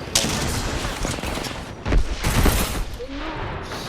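Gunfire in the shooter game Apex Legends, with rapid bursts of shots and a heavier cluster of impacts midway, dense and fairly close over continuous game noise.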